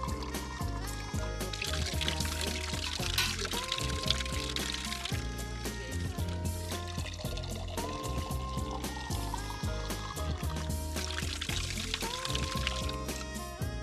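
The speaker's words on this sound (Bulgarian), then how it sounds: "Налейте малко вода във всяка една от съдинките." Water trickling and pouring into small copper vessels at a garden arrangement, a steady close liquid splash running the whole time under soft background music.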